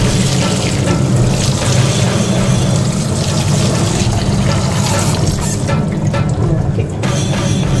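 Water poured over cooked ada (rice flakes) while making ada pradhaman for an Onam sadya, a steady close splashing flow that runs unbroken for several seconds with no talk.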